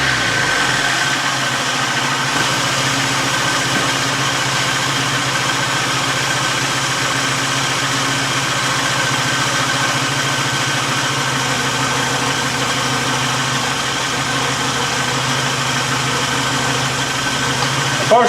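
A Kadett car's small engine idles steadily and evenly after a carburettor adjustment, a constant low mechanical hum with a faint vibration, close by and without any revving.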